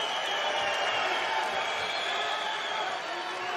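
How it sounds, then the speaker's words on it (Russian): A fight crowd in an MMA arena at an Ural FC event cheers for Vladislav Fokin, a dense, steady roar of many voices that holds loud and constant throughout. "Болельщики оживились"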